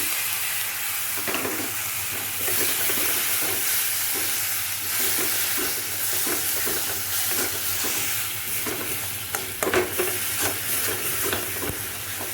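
Tomatoes go into a frying pan of sizzling Bengali egg curry with salt and chilli powder, giving a steady close hiss and crackle of frying with occasional stirring scrapes and bursts of spatter.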